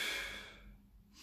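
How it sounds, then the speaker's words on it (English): A deep breath drawn during a Pilates mat posture exercise, one long airy exhale that starts close and fairly loud, then fades over about a second into quiet. "three or four nice deep breaths"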